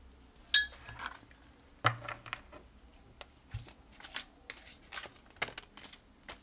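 A large deck of spiritual oracle cards is shuffled by hand, giving a run of soft, irregular riffling and tapping sounds, close and fairly quiet, with no talk.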